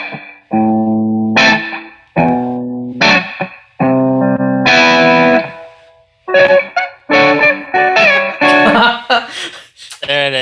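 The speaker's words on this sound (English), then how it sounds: "it's not too long of a spring reverb, so I really like it" Electric guitar played through an amp with a short spring reverb, separate chords and picked notes ringing out loud with splashy decaying tails between brief pauses.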